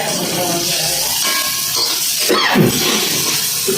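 Food sizzles and crackles steadily in a generous amount of hot oil, with a short burst of stirring partway through, close and fairly loud.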